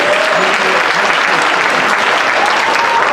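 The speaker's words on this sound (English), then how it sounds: "Let's give each one of your candidates and the mayor a round of applause." Loud, dense applause from a forum audience for city candidates and the mayor at a DeSoto candidate forum, continuous clapping of many hands throughout with no break.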